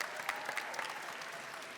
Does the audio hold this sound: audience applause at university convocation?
yes